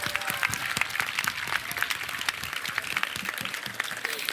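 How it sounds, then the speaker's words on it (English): Middle school students at a Class of 2019 promotion ceremony applaud their parents, a fairly distant crowd of many hands clapping in a busy, continuous patter, with a few sharper individual claps standing out. "give your parents a round of applause"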